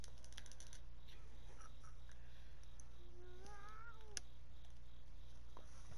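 A voice imitates a cat's meow once during an NBA 2K20 game, a single rising and falling call near the mic, with faint keyboard clicks and steady background hum.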